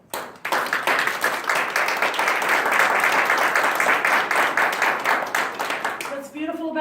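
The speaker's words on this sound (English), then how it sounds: "Give yourselves all a round of applause" An audience bursts into sustained, dense applause after a speech about building a car, holding steady for several seconds before tapering off as a voice begins.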